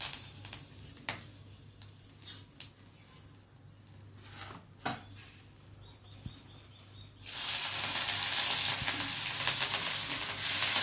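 Masala sandwich filling being tempered in a pan: quiet scattered clicks and taps of utensils give way to a sudden loud, steady sizzle as the spiced mixture hits the hot oil, continuing close and unbroken.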